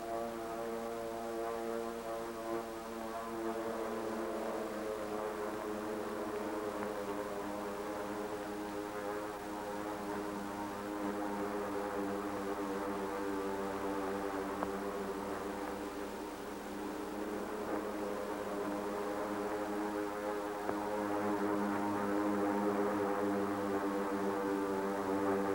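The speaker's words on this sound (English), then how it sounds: "the drone of planes was faintly heard" A steady, droning engine hum with strong low harmonics holds at constant loudness throughout, like propeller aircraft passing overhead at a distance over Honolulu.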